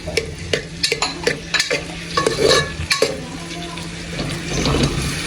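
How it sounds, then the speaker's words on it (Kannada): Onions fry in hot oil for goat leg soup, a close crackling sizzle broken by repeated scraping and clacking stirs against the pan. "ಎಣ್ಣೆ ಕಾದ್ಮೇಲೆ ಈರುಳ್ಳಿ ಹಾಕೊಳ್ಳಿ."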